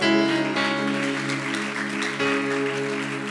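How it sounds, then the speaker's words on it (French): A church congregation claps together in sustained applause, dense and loud throughout, with music playing along underneath. "Acclame pour le Seigneur."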